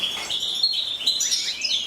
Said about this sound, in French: C'est des oiseaux bagués, ils sont nés chez moi.